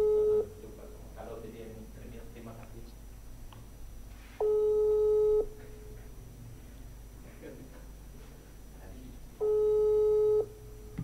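A telephone ringback tone sounds while a call is placed, repeating tone bursts of about a second at steady intervals, with people talking and background noise in the gaps.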